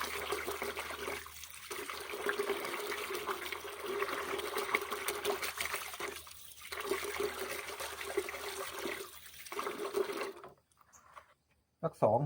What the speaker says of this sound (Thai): ล้างจนน้ำที่เป็นเมือกออกให้หมดนะครับ